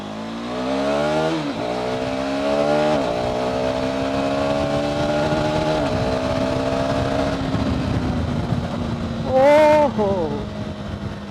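A KTM 390 Adventure motorcycle with a 390 cc engine revs up several times in rising pulls, then settles into a steady close-up drone, with a voice speaking briefly over it.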